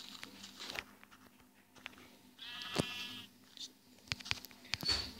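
Minecraft sheep bleat in short wavering cries, one clear bleat near the middle and a few quieter ones after, mixed with faint clicks and taps in a quiet game scene.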